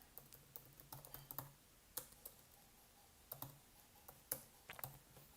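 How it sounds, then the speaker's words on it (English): Quiet, rapid clicking of a computer keyboard as someone types an entry, bursts of keystrokes in an uneven rhythm with brief pauses, close and soft, no voices. "so just typed it in there like that"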